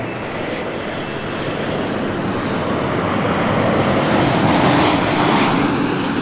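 Porter Embraer E195 jet airliner at Toronto Pearson Airport, a loud steady engine roar that swells gradually over several seconds as the aircraft draws nearer, with no voices.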